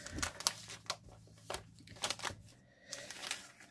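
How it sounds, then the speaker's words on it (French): Wrapping paper being untaped and unwrapped from a handmade craft piece, close and faint, with scattered crinkles, rustles and tape peeling in irregular bursts. "J'ai descotché le papier d'emballage."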